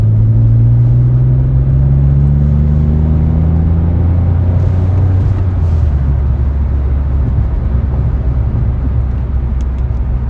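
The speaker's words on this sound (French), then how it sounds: "Je vais vous montrer ce qu'elle donne en mode éco quand même" Hyundai i20 with a small engine accelerates steadily in eco mode, heard from inside as a low, droning engine rumble with rising tone over a continuous road roar, no voices.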